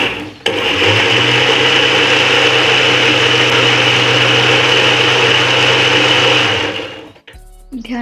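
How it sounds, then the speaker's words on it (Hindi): A kitchen mixer grinder blending milk and banana into a shake, a loud steady whirring motor running close for several seconds before cutting off with a brief rattle. "आपको इसमें जूसर की ज़रूरत नहीं है, आप ऐसे भी मिक्सर में कर सकते हो।"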